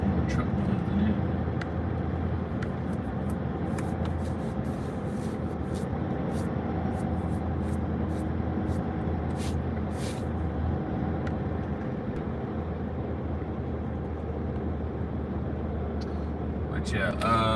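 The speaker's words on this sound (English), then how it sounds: "It's more truck noise than anything." Heavy road traffic with trucks rumbles steadily in the background, a continuous broad drone with occasional clicks, heard through a poor microphone.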